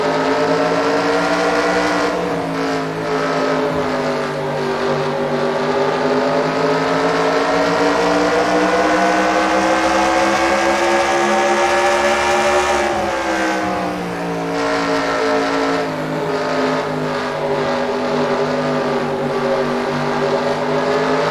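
An on-board lap in a racing video game, with the Ford Mustang race car's engine droning loud and steady, its pitch rising and falling as the car works around a dusty Lakewood oval.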